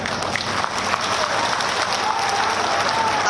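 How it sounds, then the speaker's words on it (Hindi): A crowd at a political rally for Rajasthan Chief Minister Vasundhara Raje's Gaurav Yatra in Marwar claps loudly and continuously, a dense, even roar of hands with no pauses. "ताली बजा रहे हो तो लग रहा है कि मुद्दा ही था।"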